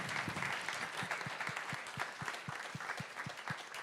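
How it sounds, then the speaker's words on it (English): At a Speck&Tech tech meetup, audience applause, faint and thin, with a few individual claps ringing out in a steady rhythm above quiet background murmur. "a big applause for Speck&Tech Change My Mind"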